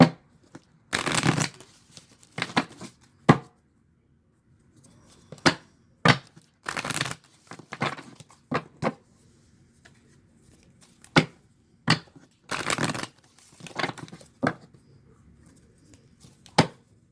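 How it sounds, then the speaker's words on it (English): A tarot card deck is shuffled by hand in short crisp bursts of riffling and flicking, about a dozen separate shuffles with brief quiet pauses between them, close up. "All right, let's get to shuffling this one."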